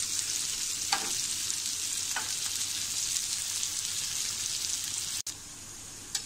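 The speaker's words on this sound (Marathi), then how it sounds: "दुसरी बाजू सुद्धा आपण त्याची छान अशी भाजून घेऊया" Pomfret fish fry in oil in a pan with a steady, close hiss of sizzling that runs throughout, with a couple of brief spatula scrapes and a short break near the end, no voices.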